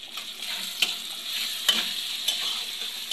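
Chopped tomatoes with salt get stirred in a hot pan, giving a soft steady sizzle with three sharp spoon knocks on the pan spaced about a second apart.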